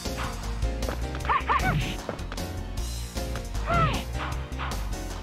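Cartoon dog yapping and barking in the Digimon Rumble Arena fighting game, several sharp yips with whimpering rises, mixed over busy game music and impact effects.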